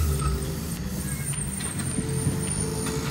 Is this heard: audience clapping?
no